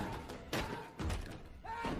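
Someone trying to force open a locked door, heavy thuds and slams landing two or three times in quick succession with background sound between them.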